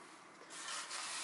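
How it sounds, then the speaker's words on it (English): A small screwdriver scrapes out the holes of an engine piston, making a faint, steady rasping rub that grows a little louder partway through, with no voices. "now I think that I can use my screwdriver"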